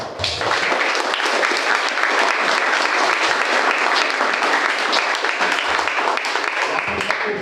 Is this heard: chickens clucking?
no